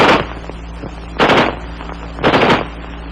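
XM16E1 5.56mm military rifle firing, loud sharp reports in three distinct bursts spaced about a second apart, each a quick crack with brief echo, heard close with no talk.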